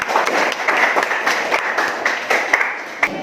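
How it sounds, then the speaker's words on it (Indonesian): Classroom applause from students after a group presentation, a steady dense patter of many hands clapping together, close and fairly loud, with no talk over it. "Tepuk tangan dulu untuk semuanya."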